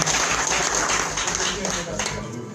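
Audience applause for Monsieur Permanent, a steady dense clatter of many hands at a press event, with voices mixed in underneath.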